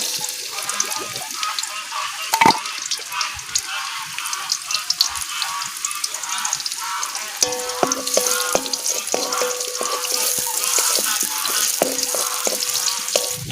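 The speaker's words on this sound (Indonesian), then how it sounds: "Pakai minyak. Cukup. Masukin bawangnya." Onions hit hot oil in a pan for a Sundanese stir-fry of genjer in a village kitchen, sizzling and crackling steadily nearby, with occasional sharp clicks and spatters.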